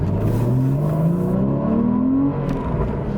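Porsche Cayman S 981 accelerating hard, its engine note climbing steadily in pitch for about two seconds before easing off, heard loud and close from inside the car with no talking.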